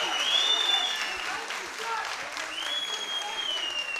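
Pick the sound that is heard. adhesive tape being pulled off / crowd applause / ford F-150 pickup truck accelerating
crowd applause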